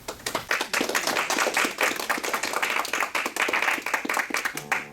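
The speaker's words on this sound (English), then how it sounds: "let's give him applause first" A church congregation applauds in a steady burst of clapping, close and lively with distinct hand claps, continuing for about five seconds without talk.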